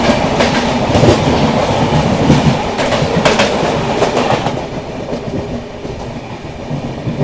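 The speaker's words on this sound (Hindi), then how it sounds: "बगल से क्रॉस हो रही है नीलांचल एक्सप्रेस, नीलांचल नहीं सीमांचल एक्सप्रेस" The Seemanchal Express, an Anand Vihar to Jogbani train, passes alongside a moving train in India, giving a loud, close, continuous rumble with repeated clickety-clack wheel beats that ease off toward the end.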